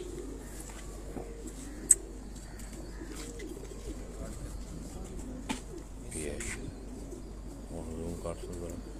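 Heera laal pigeons give soft, low repeated coos in a quiet indoor setting, faint and close, with a sharp click and some light chirps scattered through.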